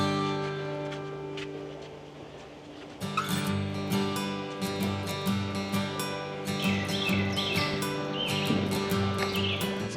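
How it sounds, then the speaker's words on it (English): A couple of red-shouldered hawks call while passing overhead along a wild stretch of the Loxahatchee River, their sharp cries repeating over a steady tonal background, with no one talking. "we just had a couple of red-shouldered hawks cruise right over us"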